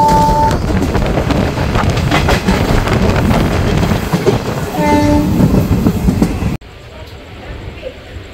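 Digha Special fare train from Kolkata running in general class near Ramnagar, loud close clickety-clack and rumble with brief tonal horn-like tones, then cutting abruptly to a much quieter hiss near the end.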